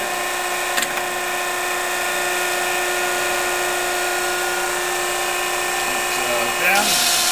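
A Conrac PHI tube bender runs with a steady mechanical hum while clamping and bending a tube, with a brief clunk early on and a louder shifting clatter near the end.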